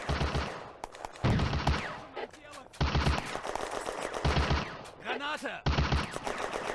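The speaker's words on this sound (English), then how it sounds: "German artillery moved to fire for effect." German artillery fire for effect in a World War II video game: loud repeated bursts of rapid gunfire in clustered volleys, separated by short gaps with voices.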